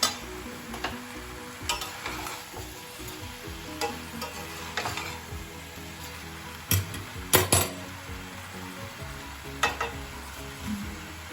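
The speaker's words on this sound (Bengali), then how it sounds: "এইভাবে আমি আস্তে আস্তে একটু একটু করে নাড়াচাড়া করব আর শাকটা মেশাতে থাকবো" Leafy greens for a mixed vegetable curry with jackfruit seeds are stirred in a wok, a soft steady sizzle punctuated by repeated metallic clanks and scrapes of the spatula against the pan, close and unhurried.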